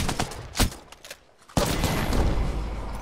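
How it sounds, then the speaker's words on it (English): Peacekeeper shotgun blasts in Apex Legends, a few sharp shots early then a loud sustained burst of gunfire and combat noise, close and alone without talk. "Man, that gun is too powerful, man, that shotgun"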